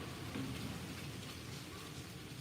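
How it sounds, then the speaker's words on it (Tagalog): Heavy rain pours steadily ahead of an approaching typhoon, a dense, even hiss with no pauses and no voices. "lakas ng ulan"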